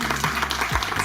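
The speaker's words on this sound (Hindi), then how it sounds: "तो आप लोगों के सम्मान में एक बार जोरदार तालियां हो जाए।" Audience applause breaking out at a speech, a brief burst of dense, steady clapping with some crowd noise mixed in.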